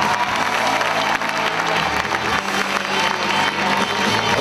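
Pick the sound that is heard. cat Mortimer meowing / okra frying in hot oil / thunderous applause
thunderous applause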